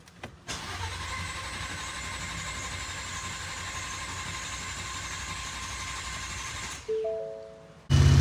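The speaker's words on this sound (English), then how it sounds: "we're gonna go ahead and start the truck" A Ford F-150 with a 3.5 EcoBoost V6 and an aftermarket turbo kit cranks and fires up, then settles into a steady close idle, followed by a brief chime and a louder thump at the end.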